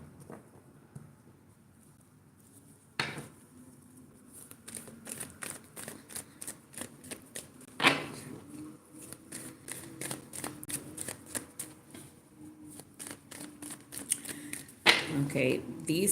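Handmade cards are shuffled in repeated quick riffles and riffling bursts, crisp papery flutters close to the ear, with a few louder snaps and a low voice murmuring faintly underneath.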